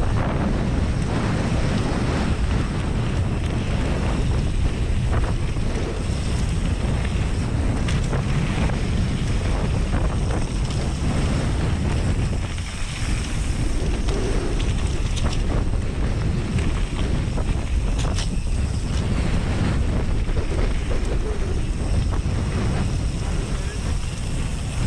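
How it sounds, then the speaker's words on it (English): Strong wind roars over the microphone on an exposed mountain bike course during the Antur Stiniog mass start race. Loud, continuous buffeting rumble fills the whole stretch, dipping only briefly near the middle. "Intimidating that wind."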